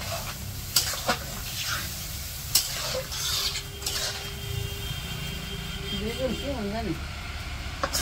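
Fried masala for a village-style fish curry sizzles in a pan while a utensil stirs it, with a few sharp clanks early on and a brief voice-like tone near the end.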